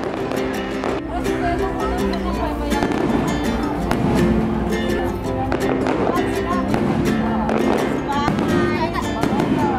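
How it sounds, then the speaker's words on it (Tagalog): Fireworks display at the Ilocos Sur Festival, with sharp bangs and crackles repeating irregularly over a steady, loud outdoor crowd din, the bursts sounding fairly close. "Natsempohan pa namin ang fireworks display dahil mayroon pala sila dito na Ilocos Sur Festival."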